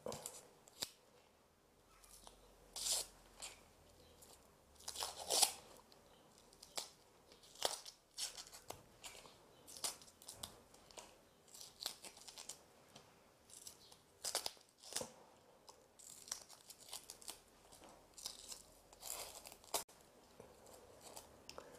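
A knife cutting the top layer off a vegetable while preparing chilli, with quiet, close, irregular cuts and crisp snips repeating throughout.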